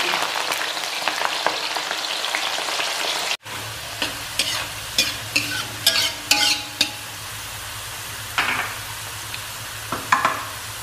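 Half-crisp fried food sizzles in a pan at breakfast cooking, a steady frying hiss with repeated clacks and stirring scrapes of a utensil, close and fairly loud, with a short break partway through.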